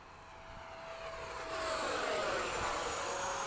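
An E-flite 80mm electric ducted-fan RC F/A-18D jet flies past under a low ceiling at a flying field, its whine rising and swelling louder as it approaches, a smooth rushing roar with a sweeping pitch.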